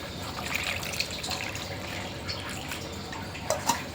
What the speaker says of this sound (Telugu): చింతపండు పులుసు వేసుకుందాము దీంట్లోకి ఇప్పుడు